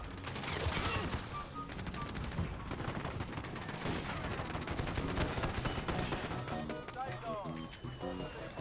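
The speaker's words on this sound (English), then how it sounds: "Of course the enemy have a VTOL." Gunfire from an enemy VTOL on the Rust map in Call of Duty Modern Warfare comes as continuous rapid bursts mixed with in-game noise, loud and dense throughout, with a voice heard over it.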